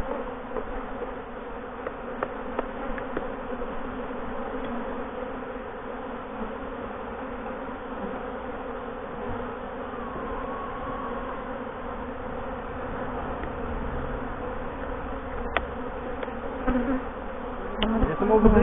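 Honeybees buzzing around hives during autumn feeding, when feeders and entrance reducers are fitted; a dense continuous hum of many bees, steady and fairly close, with no voices.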